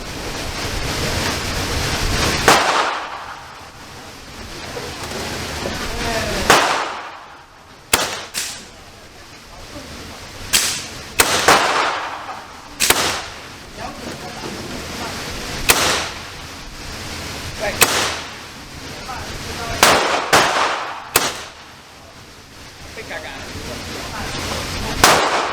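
A B&W S45 .457 caliber big-bore air pistol fires a full magazine outdoors at 30 yards: about a dozen sharp, loud reports spaced a few seconds apart, over steady wind noise.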